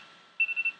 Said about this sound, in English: oh, that's my phone alarm